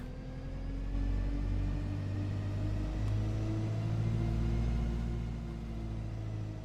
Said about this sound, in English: Bus sounds a bit odd.